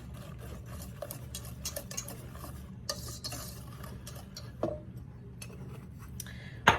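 A spoon stirs pecan pie filling with a generous shake of cinnamon in a bowl, making steady scraping and sloshing strokes close by with a few sharper clinks against the side.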